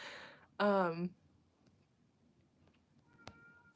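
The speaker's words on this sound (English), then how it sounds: "My cat, do you hear my cat? She's like going under the door and like yelling through the crack under it." A house cat lets out one loud, drawn-out meow behind a door, followed by quiet room sound and a couple of faint knocks, with someone talking softly.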